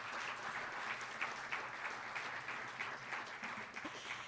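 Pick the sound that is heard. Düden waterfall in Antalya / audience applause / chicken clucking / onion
audience applause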